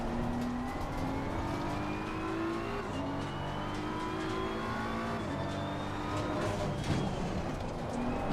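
Race car engine in a sim racing game on a fast lap at Zandvoort, droning steadily with rising and falling pitch through gear changes and corners, loud and continuous throughout.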